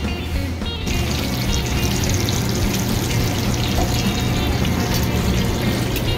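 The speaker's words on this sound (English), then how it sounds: "so now we're done frying our chicken fingers." Chicken fingers coated in crushed ramen fry steadily in a pan of hot oil, a dense continuous sizzle and crackle holding at an even level throughout with no talking.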